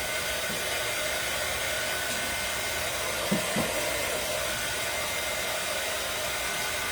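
A hair dryer blows steadily at close range to dry paint on a wooden fall leaf craft, a constant loud whooshing hiss with a couple of faint bumps partway through.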